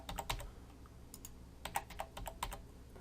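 Keys clatter on a computer keyboard as a password is typed, short bursts of close, crisp clicks with brief pauses between groups.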